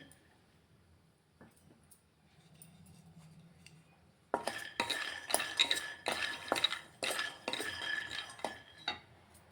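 Peanuts poured into a pan for dry roasting, a quiet start with faint handling, then a burst of rattling, clinking kernels and metal scraping as they are tossed and stirred nearby.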